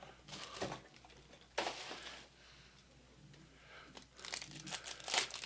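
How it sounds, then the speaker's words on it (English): Baseball trading card packs are torn open and their wrappers crinkled in several close, quiet bursts, with near silence between them. "Open up some cards."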